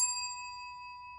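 A single bright notification bell ding, struck once and left ringing with a long, steady, pure tone that slowly fades on its own.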